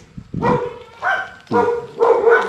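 Dogs bark four times in a steady rhythm, close and loud, each bark a short, rough burst with little else around it.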